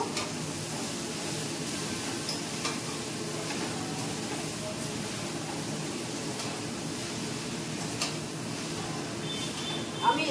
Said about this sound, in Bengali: ভালোভাবে সবজির সঙ্গে মিক্স করে নেবো।